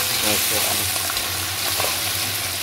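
Steady, close sizzling of ginger garlic paste frying with onions in hot oil for beef nihari, a continuous crackling hiss with no voices.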